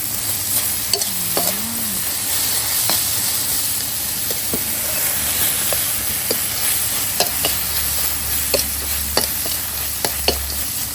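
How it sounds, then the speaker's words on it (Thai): Food stir-frying in a little oil in a pan, a continuous close sizzle with occasional scrapes and stirring knocks, no one talking. "ขัวใส่น้ำมันน้อยหนึ่ง"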